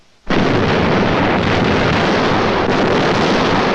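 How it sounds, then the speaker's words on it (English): Sustained heavy rumble of long-range artillery shells exploding in a city under siege, a loud continuous roar that begins abruptly and fills the whole stretch without pause. "For days, long-range guns hurled ton after ton of high explosives into the heart of the city."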